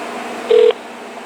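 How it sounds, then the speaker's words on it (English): A telephone on speakerphone sends out a single short, loud keypad tone while dialing, set against a quiet background hum. "It's dialing fast, pretty fast too"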